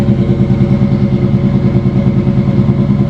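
A steady, close engine idle from a performance-modified project truck, with a dense low rumble and an even mechanical lope holding throughout, alone with no talk.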